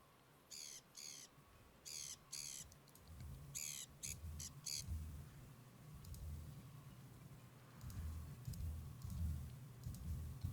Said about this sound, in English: Listen to what a sun conure sounds like.